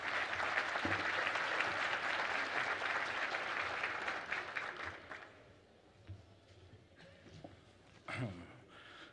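Applause from a conference audience at an education forum in Jalisco, dense and steady for about five seconds, then thinning into scattered claps and murmurs with a brief swell near the end.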